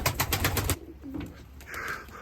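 Pigeons coo in a short burst of repeated low calls, fairly close, followed by quieter outdoor ambience with a faint patter as of rain.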